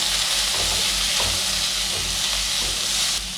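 Onion, chopped ginger and garlic cloves fry in a pan over a moderate flame, making a loud, close, continuous sizzle with faint rhythmic stirring scrapes underneath.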